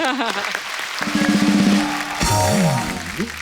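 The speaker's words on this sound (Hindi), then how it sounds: "इनके लिए जोरदार ताली हो" Studio audience applause on a TV comedy show, clapping under a loud musical sting with a voice and tones over it, fairly brief and mixed.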